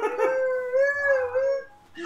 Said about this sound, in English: A cop car drove by and my dogs howl at cop cars.